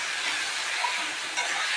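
Salted onions frying in a pan of hot oil make a bright, even hiss close by. It runs unbroken, with only a small bump near the end, and there is no talk.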